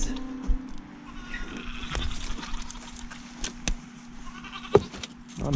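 Goats on a farm make a few short bleats amid a quiet outdoor background, with scattered knocks and a steady low hum, no talk.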